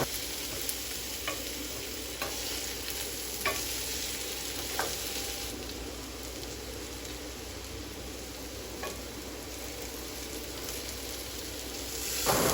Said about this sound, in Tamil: நான் அப்பப்போ இந்த மாதிரி கிளறி விட்டுக்கிறேன், அடி பிடிக்காமல் இருக்கிறதுக்காக.